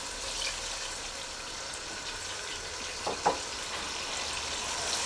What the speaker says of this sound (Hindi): अब इसमें शामिल करते हैं आधा कप पानी,